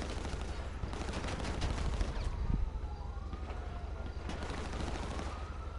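Rapid gunfire in GTA Online, a dense crackling fusillade of shots running continuously under game noise, fairly loud with a steady rhythm of bursts.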